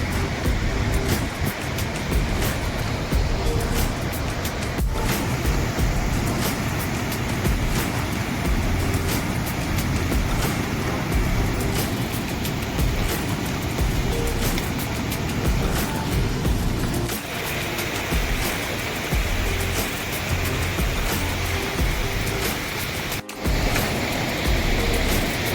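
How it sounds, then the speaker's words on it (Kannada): The Mandakini River at Kedarnath roars in a dense, unbroken rush of fast-flowing water, loud and close, with no voices over it. "ಇದು ಮಂದಾಕಿನಿ ನದಿ. ಸೊ ಇದು ಸೌಂಡ್ ನೋಡಿ ಎಷ್ಟು ರೌದ್ರವಾಗಿ ಹರಿತಿದ್ದಾಳೆ ಇಲ್ಲಿ"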